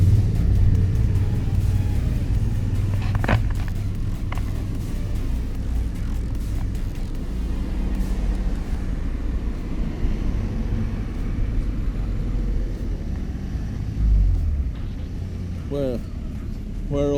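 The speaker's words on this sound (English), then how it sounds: "It's a lot of cars." Cars pass along a busy street in a continuous low rumble of traffic, loud and close at first, easing slightly before a brief swell near the end, with faint chirps at the close.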